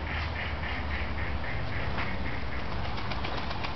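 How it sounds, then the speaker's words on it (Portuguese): Several geese quack and honk in repeated bursts while eating, fairly close, over a constant background rush; no voices are heard. "Eu tô dando comida pros gansos"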